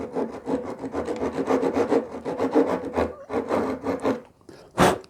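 Small Japanese pull saw rubbed back and forth like a file on wood while cleaning up fretboard markers, a quick run of short rasping strokes close up, alone and with no talking.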